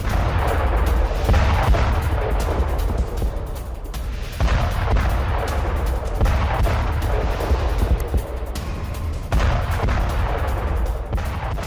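Heavy bombardment during Israeli strikes on Beit Yahoun in Lebanon: continuous loud rumbling with repeated booms and blasts layered over each other, with no voices.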